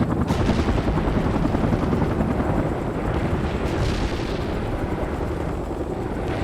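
An Mi-24 helicopter makes a flyby attack in the World in Conflict game, its loud rotor roar and gunfire rumbling continuously with bursts of firing, no speech over it.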